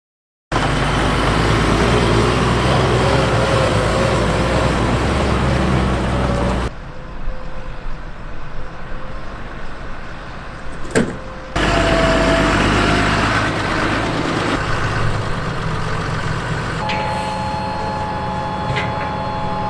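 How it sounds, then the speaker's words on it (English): A Fendt 924 tractor pulls a 3-axle hook lift trailer hauling soil. The engine drones loud and steady throughout, the tone shifts across abrupt cuts between shots, and one sharp knock stands out midway. "the Fendt 924 and 3-axle hook lift trailer are required to transport some soil"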